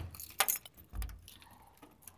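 Keys jangle as they are pulled from a pocket to open a gate, a few quick metallic clinks with a brief burst early on, followed by faint shuffling and a thud.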